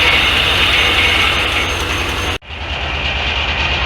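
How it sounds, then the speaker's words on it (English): An antique Corley sawmill carriage rolls along steadily with a loud, continuous mechanical rumble and rattle, broken by a brief drop around the middle before the running noise picks back up. "I got the carriage moving"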